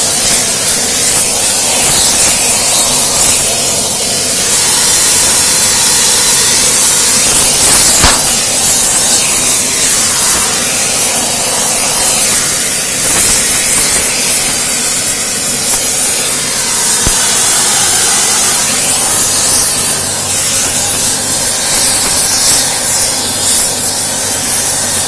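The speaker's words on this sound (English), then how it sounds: "little squirt with the flux" Soldering flux sprayed from a can in a steady, loud, continuous hiss that runs unbroken throughout, with faint rubbing underneath and no talk.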